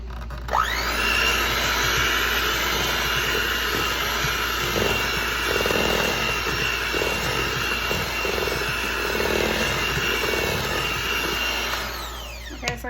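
An electric hand mixer beats cherry cookie dough in a bowl, giving a steady, loud motor whine that runs nearly unbroken for the whole stretch, with a faint rhythmic churning beneath and no talking.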